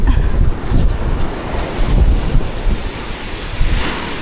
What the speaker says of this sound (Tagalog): Taas ng hangin at ulan. Umuulan pa nga.